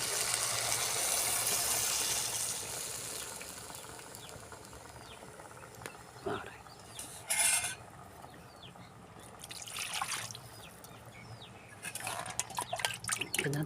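Tamarind masala mixture poured into a cooking pot of sautéed vegetables in a village kitchen: a liquid gush at the start, then quieter trickles, drips and stirring clatter, with faint background noise.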